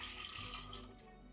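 Water pours steadily into an electric kettle, a continuous splashing stream held close and fairly loud for a moment, alone with no talk.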